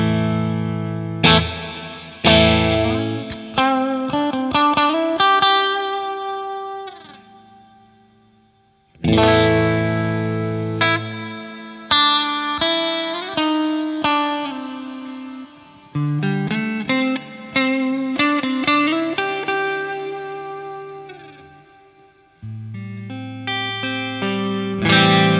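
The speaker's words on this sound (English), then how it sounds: "Hall reverb." Electric guitar through a Zoom 505II multi-effects pedal set to hall reverb: several loud strummed chords and picked note runs, each ringing out in a long, washy tail that fades between phrases, close and played alone.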